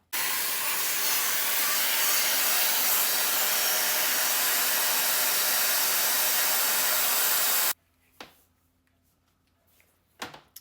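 Shark FlexStyle and Dyson Airwrap Coanda 2x stylers blowing air as they wrap hair into curls, a loud steady rushing hiss that cuts off abruptly, followed by quieter handling noises and a couple of faint clicks.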